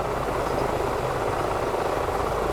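An EC-135 helicopter in MSFS 2024 spools up its engine, a steady dense turbine whine and rotor roar that holds constant and loud throughout with no speech.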